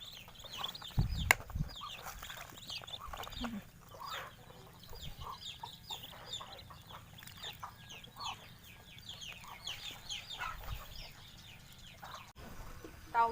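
Chickens and ducks on a rural farm cluck and call in scattered, fairly faint bursts over a quiet outdoor background, with an occasional sharp knock.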